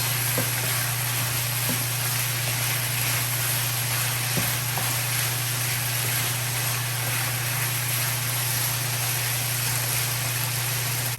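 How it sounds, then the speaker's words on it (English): Chicken chop suey with garlic sautéing in a pan, a steady dense sizzle with a low hum and a few faint utensil taps, continuous and close. "Saute for another 2 minutes."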